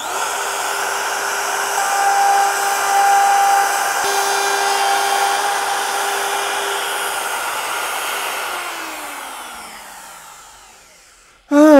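A wood router guided by a homemade circle jig mills a circle in wood, a loud steady high whine lasting several seconds before the motor spins down and fades, ending with a sudden sharp clatter.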